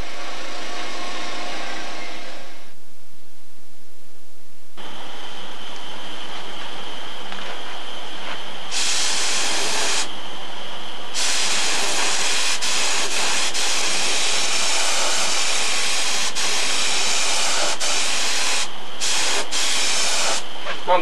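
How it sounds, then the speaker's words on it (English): A spray gun fogs candy apple green paint onto the edge of a canopy in a steady, loud hissing spray. The spray starts and stops several times, with brief gaps in between, and no one speaks. "What I'm doing, I'm just fogging the edge of the canopy"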